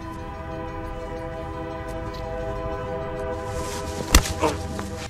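A steady ringing crossing bell sustains in the background, then a loud, sharp train horn blasts briefly, followed by a second shorter toot.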